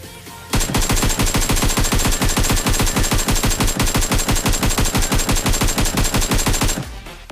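Rapid, loud automatic gunfire in the mobile battle royale game PUBG Mobile, a long continuous burst of evenly spaced shots lasting several seconds before cutting off abruptly.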